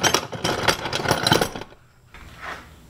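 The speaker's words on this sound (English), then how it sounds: "I'm gonna swap this out for a larger drill bit and make my way up in size here" A power drill with a larger bit drills a hole in a mint tin, whining loudly in short bursts for over a second, then stops, leaving near silence and a faint trailing noise.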